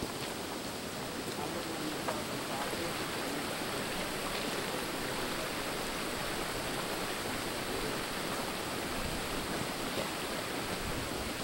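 Creek water rushing steadily past during a llama trek crossing, a continuous broadband wash of flowing water heard up close, with no talk.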